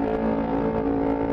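A Yamaha R25 motorcycle engine runs close by with a steady, smooth hum and a strong, sustained tone that holds level throughout, with no voices.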